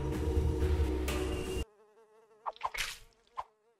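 Fly buzzing in the point-and-click adventure game The Inner World, a thin wavering insect drone that follows a loud burst of game sound and runs on with a few sharper flutters, close and moderately loud with nobody talking.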